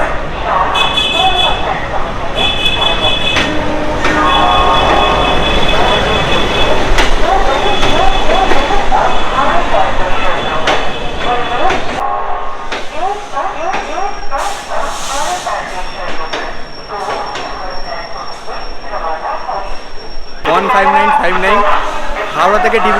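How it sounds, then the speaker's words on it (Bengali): Loud rumbling of the 15959 Kamrup Express arriving, with hissing and metallic squeals, a long continuous roar under crowd chatter and announcements at a busy station. "আমাদের ট্রেন ঢুকছে one five nine five nine Kamrup express"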